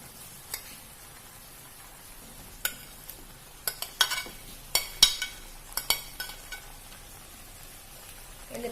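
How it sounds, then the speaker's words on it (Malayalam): Fried chicken pieces tipped into a pan of thick, oily chicken gravy and stirred, giving a run of sharp scraping and clinking spoon-on-pan hits over a low simmer. "ഇനി നമുക്ക് ഇതിലേക്ക് ഫ്രൈ ചെയ്ത് വെച്ച ചിക്കൻ ആഡ് ചെയ്ത് കൊടുക്കാം."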